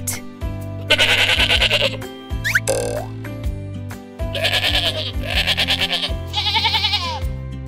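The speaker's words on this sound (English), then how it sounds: "Goat." A goat bleats in several loud, trembling bursts layered over an upbeat children's song, the calls sitting close and prominent above the steady musical backing.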